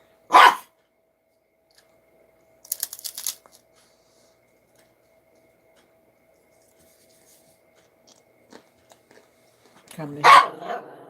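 A pet dog, a spoiled female, gives a few short sharp barks, one near the start, a cluster a few seconds in and another near the end, separated by long quiet gaps in an indoor room.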